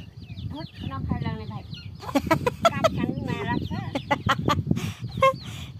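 Chickens cluck and squawk in short bursts close by, with people talking over them throughout.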